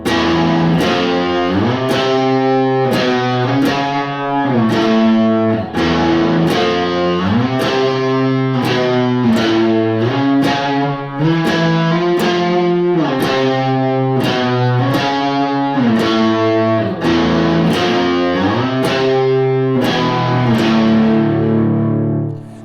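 Electric guitar through effects and distortion plays an octave-based intro riff, a loud, steady run of repeated picked notes with changing chords over about twenty seconds, no voice.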